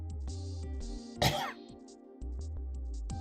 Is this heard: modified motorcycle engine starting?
no